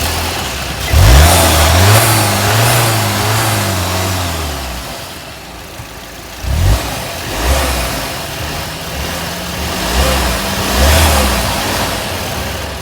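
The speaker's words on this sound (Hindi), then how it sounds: "अब हम इसकी सेल्फ मार के आपको इंजन की साउंड सुनाते हैं।" A 2021 Volkswagen Tiguan with a 7-speed automatic and push-button start cranks and fires up close by, then gives a few sharp revs that settle back to a steady idle between bursts.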